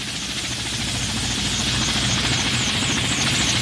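A helicopter roars steadily and loudly throughout, its engine and rotor wash forming a dense, continuous drone.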